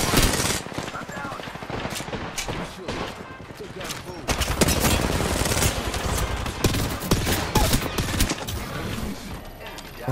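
Rapid automatic gunfire in an Apex Legends Season 17 match, dense bursts of shots continuing through the clip, loud and close, with some player voice mixed underneath.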